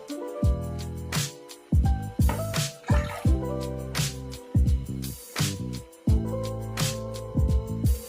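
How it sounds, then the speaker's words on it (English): Water is poured over a patient's hair in a rinse, splashing and dripping in short, irregular bursts with brief quiet gaps between them, close and fairly clear with no one talking. "we're going to rinse the patient's hair with water."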